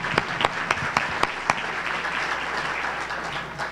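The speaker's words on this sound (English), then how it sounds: "Clap for all." Audience applause at an annual celebration speech for a fishing school, a steady wash of clapping from a room full of people with a few sharp individual claps standing out near the start before settling into even applause.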